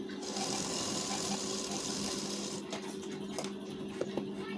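A sewing machine stitches blouse fabric and lining in a steady rapid whir of needle strokes, slowing and ending in a few faint clicks near the close, with no talk.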